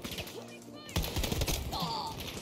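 Shotgun blasts in Battlefield 2042 from a weapon fitted with a factory barrel, hollow buckshot, drum magazine and laser sight, a few sharp booming shots under game noise and someone talking.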